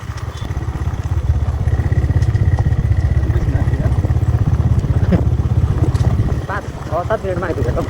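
A Royal Enfield Bullet motorcycle rides along a road to a hilltop temple near Dharan, its engine giving a loud, steady low thump close by that eases slightly near the end, with faint voices over it.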